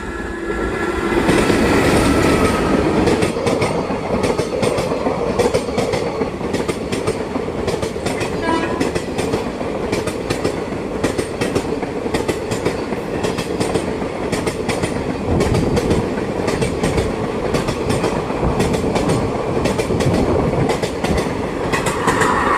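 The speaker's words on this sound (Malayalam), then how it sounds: "കോയമ്പത്തൂർ ജംഗ്ഷനിൽ നിന്നും മാംഗ്ലൂർ സെൻട്രലിലോട്ട് പോകുന്ന ഇന്റർസിറ്റി സൂപ്പർ ഫാസ്റ്റ് എക്സ്പ്രസ് ആണ് ഇതാ വരുന്നത്" Intercity Superfast Express hauled by a WAP-4 electric locomotive, running from Coimbatore Junction to Mangalore Central, passes through Vellayil station in Kozhikode. The clickety-clack of wheels and wagons is loud and steady throughout.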